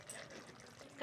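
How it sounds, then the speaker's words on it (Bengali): Mustard oil poured over cooked ridge gourd and potato in a Bengali poppy-seed dish, a faint, brief liquid trickle lasting about a second. "ওপর থেকে সর্ষের তেল আর অল্প করে চিনি দিয়ে নামিয়ে নেব"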